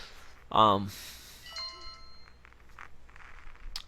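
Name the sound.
phone text message notification sound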